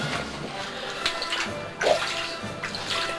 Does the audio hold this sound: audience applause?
no